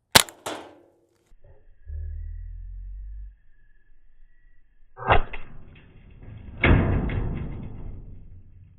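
A Ruger pistol fires a single sharp shot at an iPhone, a loud crack followed by a brief boom, then a low hum and two more heavy bursts of impact and clatter later on.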